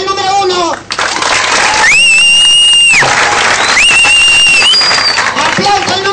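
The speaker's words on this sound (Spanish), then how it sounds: "¡Aplausos al número uno!" A live audience applauds a contestant at a comedy show, clapping steadily throughout with loud whistles and shouts rising over the crowd, while a voice speaks at the start and end.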